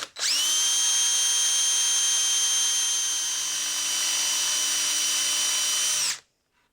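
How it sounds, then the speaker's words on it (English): Drill boring a 1-inch Forstner bit into a wooden door jamb, a steady loud high-pitched whine that holds for about six seconds, dips slightly midway, then stops abruptly. "I'm going to start by drilling it out with a 1-inch Forstner bit."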